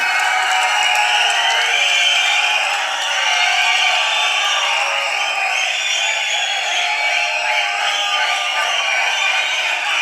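An audience at the Garudan film audio launch cheers and applauds to welcome hero Soori onto the stage, a dense and steady roar of crowd noise holding for about ten seconds without a break.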